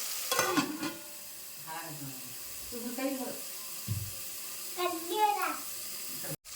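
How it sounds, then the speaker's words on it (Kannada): Tomatoes and onions frying in a pan for kushka rice give a soft continuous sizzle with occasional stirring scrapes, heard under a voice speaking intermittently, and the sound cuts off abruptly at the end. "ಇವಾಗ ಟೊಮೆಟೊ ಒಣಗಿ ಫ್ರೈ ಆಗ್ಬೇಕು"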